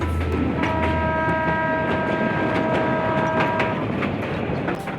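A train sounds its horn as it nears a station in Bogura, Bangladesh, a sustained tonal blast held for a few seconds over a steady loud rumble of rolling wagons and clacking wheels.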